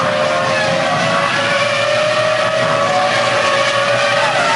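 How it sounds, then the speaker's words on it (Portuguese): A Renault-powered Formula 1 car roars past at the European Grand Prix, its high-pitched engine note loud and sustained with sweeping tonal shifts as it accelerates. "Falando alto o motor Renault."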